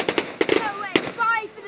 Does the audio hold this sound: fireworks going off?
yes